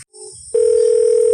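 A telephone emits a steady, loud continuous dial tone as a call is placed, starting abruptly after a brief quieter moment and holding unbroken to the end.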